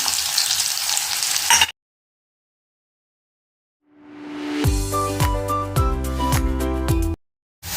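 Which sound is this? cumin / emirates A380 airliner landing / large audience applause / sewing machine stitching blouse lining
cumin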